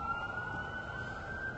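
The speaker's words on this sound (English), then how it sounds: "I've got an ambulance. Hold on. An ambulance, people. Ambulance." An ambulance siren wails in New York City, a continuous tone held steadily at moderate distance across the street noise, with no voices over it.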